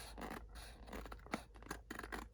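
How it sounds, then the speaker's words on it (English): Paper edges for a Valentine journal being trimmed with a pair of scissors: a series of crisp snipping and slicing cuts with short gaps between them, close and moderately loud. "I love these scissors for trimming edges like this"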